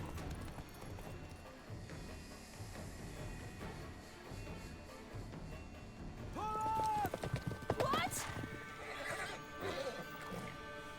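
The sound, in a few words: horse galloping in the video game The Witcher 3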